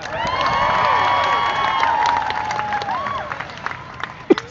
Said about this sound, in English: please give a big round of applause for my band